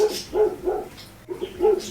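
A dog barks several times in quick, uneven succession, close by and fairly loud, with short yelping barks and brief pauses between them.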